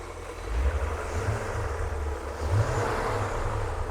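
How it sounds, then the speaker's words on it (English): A 2001 BMW M5 sedan, fully warmed up and 100% original, revs its engine: a steady low rumble rising in a few swells, heard close and continuous with no talk. "can you rev it up a couple times?"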